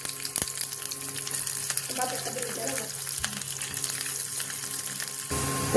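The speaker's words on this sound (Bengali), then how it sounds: "এখানে রসুনটা পুরো ভাজা হয়ে গেছে" Garlic and green chillies fry in mustard oil on a flat griddle, giving a steady close sizzle with faint clinks and scraping throughout and a voice talking over it.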